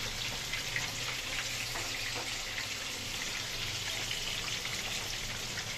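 Shankar fish (stingray) fries in oil in a covered pan, a steady, soft, even sizzle with faint crackles and no voices.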